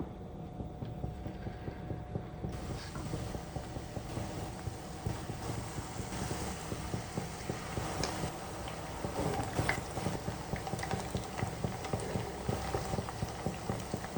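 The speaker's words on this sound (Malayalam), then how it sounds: "അപ്പം അങ്ങനെ നമ്മുടെ എണ്ണ ചൂടായി, നമുക്ക് ഓരോന്ന് ഇട്ട് കൊടുക്കാം." Battered paneer pieces for Paneer 65 deep frying in hot oil, a dense steady bubbling crackle heard close and continuous throughout, with no talking.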